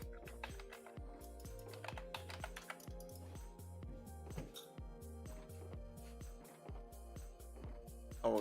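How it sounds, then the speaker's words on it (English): Computer keyboard and mouse clicking close by in a steady, rapid stream of sharp taps, fairly quiet but clear, with no voices. "Your mouse is kinda loud though."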